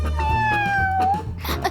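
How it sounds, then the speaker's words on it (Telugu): A cat gives one long, drawn-out meow that slowly falls in pitch, close and clear, followed by a shorter cry near the end, with a low background hum underneath. "నాకు ఈ పిల్లి కావాలి"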